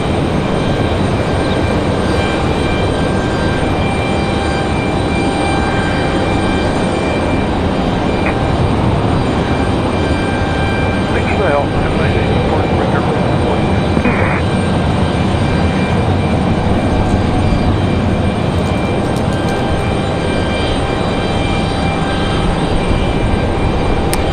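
A Southwest Boeing 737 Max 8 bound for St. Louis rumbles at Raleigh-Durham airport, a loud, broad, steady engine roar with faint tonal whines holding throughout, no voices.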